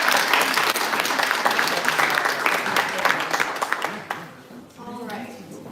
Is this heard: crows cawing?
no